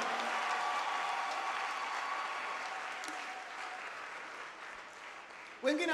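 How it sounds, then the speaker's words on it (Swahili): A church congregation cheers and ululates in joy during a Christmas sermon, a dense, steady wash of crowd noise with high trilling voices. It holds for several seconds, then ends with a brief louder burst. "Pigie Jehova vigelegele vya shangwe."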